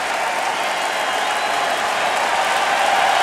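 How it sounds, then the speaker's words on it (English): Crowd at a 2016 Big Ten college wrestling match in an arena, Penn State vs. Ohio at 184 pounds, cheering and applauding in a steady, dense roar that holds loud throughout. "And the crowd comes to their feet. What a tremendous crowd here."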